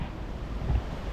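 Steady rushing typhoon wind buffets the microphone in a low roar at the front of a boat, with a slight gust swelling near the end.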